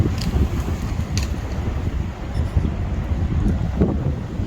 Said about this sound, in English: it's incredibly windy out here